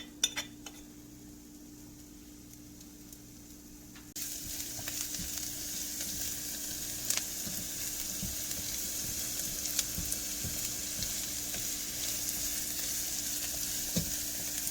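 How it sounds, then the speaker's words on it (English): Onions and garlic frying in heated oil for marinara sauce, a quiet hiss that jumps to a steady, louder sizzle after the ingredients go in, with occasional utensil clinks over a low hum. "you can put your onions and your garlic in here. Fry this up a little bit."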